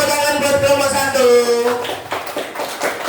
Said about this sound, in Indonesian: Sekali lagi tepuk tangan buat kelompok 1.